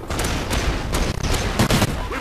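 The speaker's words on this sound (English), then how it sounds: "Alright, here, buddy, have yourself a 9-bang." A 9-bang stun grenade going off in Call of Duty: Ghosts multiplayer, a string of sharp bursts within continuous loud gunfire and combat noise, with a voice talking over it.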